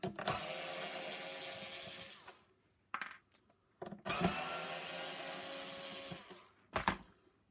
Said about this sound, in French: Moi, je vais prendre la visseuse dévisseuse, ça sera plus rapide.